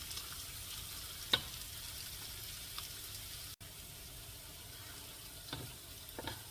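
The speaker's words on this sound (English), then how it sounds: "Make sure you don't burn the garlic on a high heat." Garlic, ginger and shallots fry over high heat in a pan for a mud crab XO sauce, giving a soft, steady sizzle with a couple of brief clinks and stirring scrapes.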